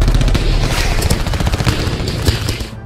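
Staged gunfire effect in a dramatized story: a dense, steady clatter of rapid shots and booms runs throughout, loud and continuous, ending abruptly.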